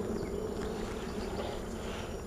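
Honey bees buzz in a steady, dense drone during a hive inspection, a continuous close hum with no voices.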